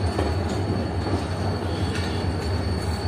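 HGMU30 diesel train 8215 starting to move, a low steady engine drone with a faint high whine and a soft wheel rumble, heard from nearby.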